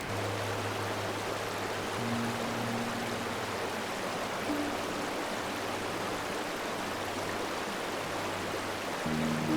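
A river rushes past a campsite in Pahalgam, Kashmir, in the rain, a steady, dense roar of flowing water that continues unbroken, with a faint low hum underneath.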